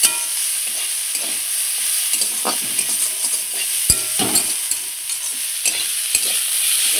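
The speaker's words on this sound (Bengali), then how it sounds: "এই দেখুন থোরটা খুব সুন্দর করে ভাজা হচ্ছে" Banana stem (thor) sizzling steadily as it fries in a pan, with repeated scraping stirs and occasional utensil knocks, close and continuous throughout.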